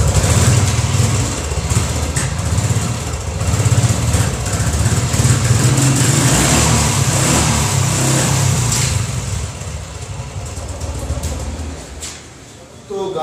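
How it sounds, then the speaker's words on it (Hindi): A Royal Enfield motorcycle that had stood unused for a long time, now running after starting: a loud, steady engine rumble with some rising revs, holding close and constant, then dropping slightly near the end. "गाड़ी एकदम बिल्कुल स्टार्ट हो चुकी है"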